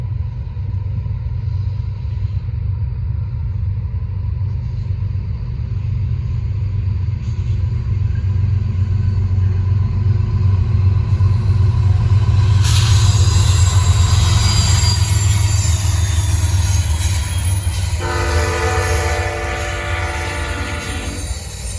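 Norfolk Southern freight trains 24X and 28R pass together, led by C6M locomotives, with a deep steady rumble of wagons, screeching wheels and a horn sounding partway through, close and loud throughout.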